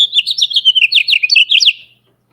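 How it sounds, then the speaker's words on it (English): A house finch sings from a tree, a bright warbling run of rapid chirps and slurred notes lasting close to two seconds, clear and fairly near with no talk over it before it stops. "Merlin identified it as a house finch"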